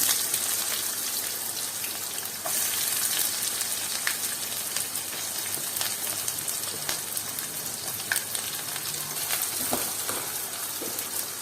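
Green chillies and curry leaves hit hot oil for a bottle gourd (sorakaya) curry, giving a steady, dense crackling sizzle that runs without a break, close and fairly loud.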